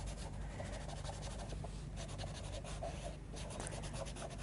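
Derwent tinted charcoal pencil drawing on paper, adding green around the edges of a cat's eye, heard as a continuous soft scratchy scribble of close, light strokes over a steady faint background hiss.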